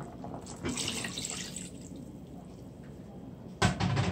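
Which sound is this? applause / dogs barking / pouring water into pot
pouring water into pot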